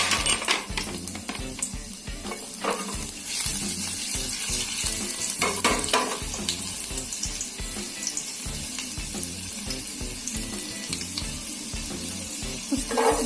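Ginger fries in two tablespoons of oil in a pan for Manchurian gravy, a continuous close sizzling hiss with irregular stirring scrapes and clatters.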